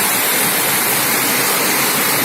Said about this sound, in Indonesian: hujannya lebat banget